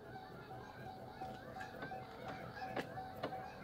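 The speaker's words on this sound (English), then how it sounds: "if you guys can hear that noise over all the geese over by the lake" Geese by a lake honk in the distance, a handful of sharp calls rising over steady outdoor background noise.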